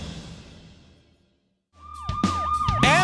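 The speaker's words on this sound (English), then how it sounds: "Move aside! Mobilize! Move aside! Ambulance!" Cartoon ambulance siren from a children's rescue-team show, a loud wailing sweep that rises and falls repeatedly after a quiet, fading opening, with bright tonal sound effects layered on top.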